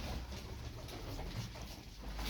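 Tumbler pigeons kept in a loft coo softly, low murmuring calls repeating under a steady hiss of background noise, faint and close.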